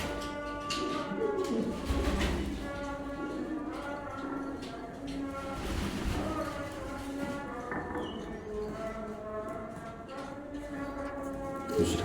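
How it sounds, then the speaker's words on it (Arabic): Pigeons in a home loft with young squabs give soft, low cooing that runs steadily under background chatter and room noise, at moderate distance. "بص الحمام جعان"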